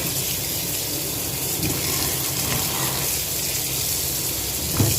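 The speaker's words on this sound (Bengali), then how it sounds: "আমি বেশ কিছুক্ষণ ধরে ধরে এগুলোকে ভালোভাবে পরিষ্কার করে করে আমি এইভাবে ধুয়ে নেব" Soybean chunks being washed under running water in a kitchen, a steady broadband rush of tap flow and splashing that holds evenly throughout, with a slightly louder splash near the end.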